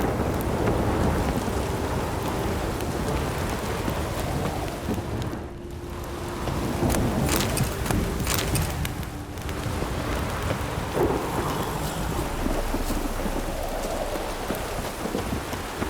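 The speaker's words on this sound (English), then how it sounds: "Storm, damn it." Steady rainfall with rolling thunder in The Witcher 3, a dense wash of rain on surfaces with low rumbles building and fading, with a faint tonal hum briefly audible beneath the storm.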